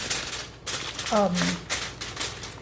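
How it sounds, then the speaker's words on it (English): Aluminum foil crinkles and rustles in bursts as it is pressed over a roasting pan of garlic to seal the edges, with a person talking over the noise. "hopefully you can hear me over all the crinkling"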